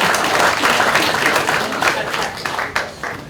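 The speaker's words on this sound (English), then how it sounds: "You can clap." Audience applause at a Memorial Day event, a dense steady wash of many hands clapping that fills the room, thinning slightly toward the end.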